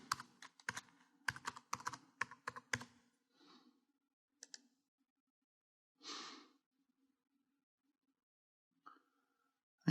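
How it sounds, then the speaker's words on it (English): A computer keyboard is tapped to enter a password for a SQL server login, with quick bursts of close clicking keystrokes for a few seconds, then a few isolated key presses and a soft breath amid quiet. "Oh, looks like I typed in the wrong password."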